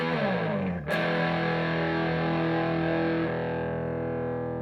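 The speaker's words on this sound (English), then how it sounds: "We're going to turn on as much distortion as I have for this specific amp today." Electric guitar with heavy distortion rings out a thick, sustained chord that swells after a quick strum, then holds steady and loud before fading slightly.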